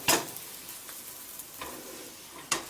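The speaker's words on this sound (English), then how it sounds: "You'll give it just a moment to cook on that side." Crepe cooking in a pan, a quiet steady sizzle with a few sharp clatters of a utensil against the pan at the start and end.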